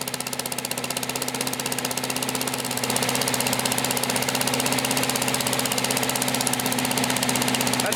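A Briggs 200cc engine on a Simplicity leaf ground blower runs at top RPM, giving a loud, steady, rapid mechanical drone with a fine rhythmic pulsing, close by and alone.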